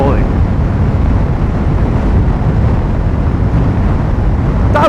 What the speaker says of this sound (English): Oh, it is absolutely windy.